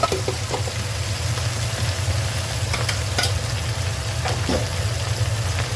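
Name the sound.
crab and shrimp frying in pan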